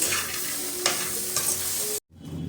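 Makhana salad ingredients being stirred and tossed together in a bowl, a close, continuous scraping swish with a couple of sharper scoops, ending abruptly in silence before faint rustling returns.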